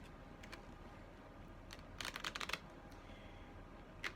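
Tarot cards being shuffled by hand, a quiet run of soft riffling and flicking bursts clustered in the middle, with a faint ticking before and after.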